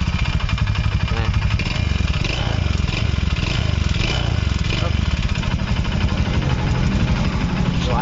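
A Honda Beat scooter engine idles steadily and close by, with a fast, even ticking running through its low rumble.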